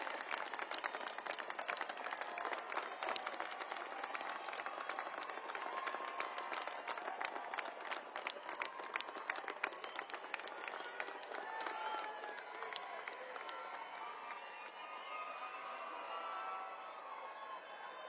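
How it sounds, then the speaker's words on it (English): A large graduation crowd at an Air Force Academy commencement applauds families, sustained dense clapping with cheers and whoops filling the hall, steady throughout and slowly thinning toward the end. "Stand up and give them a round of applause."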